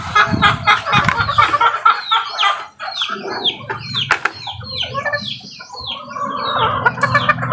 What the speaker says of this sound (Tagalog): Lahat nito guys, paligid namin at sa sulok-sulukan, ang daming manok